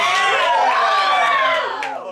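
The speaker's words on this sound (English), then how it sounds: "The crowd roars and anticipates a" Fight crowd roaring between rounds of a no-rules bout, a loud sustained wall of yelling and screams that swells and then tails off at the end.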